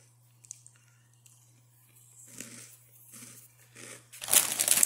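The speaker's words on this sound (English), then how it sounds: "I'm eating these Simply Cheetos Crunchy." Someone munches crunchy Simply Cheetos, with soft crinkles of the snack bag and a few crisp bites, close and fairly quiet, rising to a louder crunch at the end.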